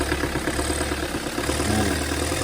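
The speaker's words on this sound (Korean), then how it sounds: "이런 소리가 나면은 바로 이 메탈 베어링이 손상이 돼서" Hyundai R diesel engine idling with a damaged metal bearing, a steady close mechanical drone with a faint repetitive knock running through it.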